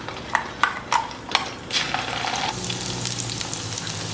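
Onion-coconut paste hits hot oil with spices for a spicy village-style chicken curry. A few loud clattering stirs give way to a steady, close sizzle, with no talk.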